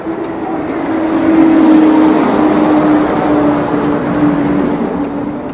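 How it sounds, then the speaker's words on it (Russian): Garbage trucks work on a busy city street in Victoria on Vancouver Island, a loud continuous engine roar with a steady droning tone that swells and then eases slightly. "И шум мусорных машин."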